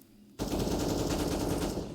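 Counter-Strike match on the Ancient map: a sudden rapid burst of gunfire starts after a short quiet lead-in and rattles on steadily to the end.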